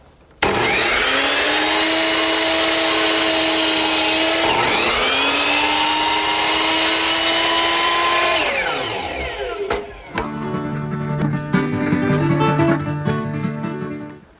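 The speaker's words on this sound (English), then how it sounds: "Now both the top and bottom of the baluster are beveled at the power miter box." A power miter box turned to a 20-degree angle bevels the ends of a wooden baluster: the motor whines loud and high through two cutting passes, then winds down, followed by light clattering knocks of the wood being handled.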